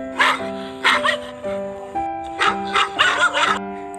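A dog barks in short, sharp bursts, about seven or eight yips and bow-wows in uneven rhythm, loud and close against a faint steady background tone.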